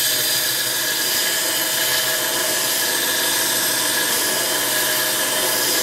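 Steel axe blade held by hand against the spinning wheel of an ADEMS Tesar sharpening machine, a steady, loud, bright grinding whine that runs continuously without pauses and with no talk.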